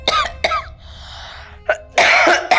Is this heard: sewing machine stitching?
no